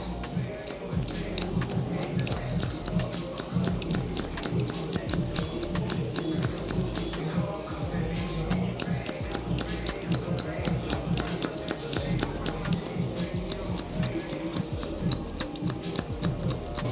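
Barber scissors point cutting hair for a low taper brush back, a steady stream of rapid, crisp metallic snips close to the ear over a low background hum, with no talking.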